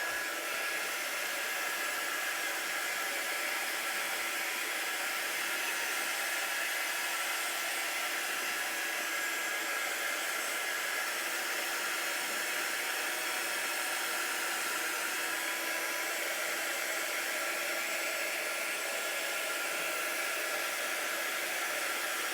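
A hair dryer blows continuously to dry chalk paste ink on a pillow case, a steady close hiss and whine with no breaks and no voices.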